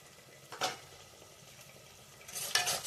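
Masala for an chicken tambda rassa stirred in a pan, faint sizzling with a couple of brief scraping strokes of the spoon close by.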